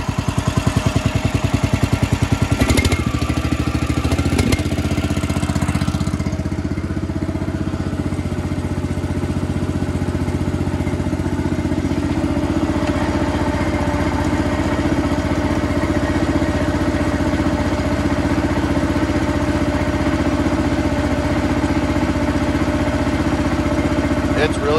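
A saw rig's hydraulic engine idles up in bitter cold around 12 degrees, giving a steady, close mechanical drone with some clatter in the first few seconds.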